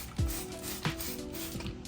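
A hand spray bottle mists a crested gecko enclosure with cork bark and plants. It gives about three short, soft hissing spritzes a fraction of a second apart, heard up close.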